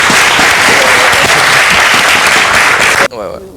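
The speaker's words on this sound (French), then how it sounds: "On vous applaudit." A studio audience applauds loudly and densely for about three seconds, then the clapping cuts off abruptly into quieter room sound with faint voices.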